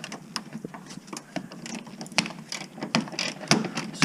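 Rapid ratchet clicks in uneven bursts as a wrench loosens the strut top bolts on a 2005–2012 third-generation Toyota RAV4 front strut, close and fairly loud with no talk.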